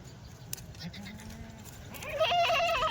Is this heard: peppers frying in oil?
no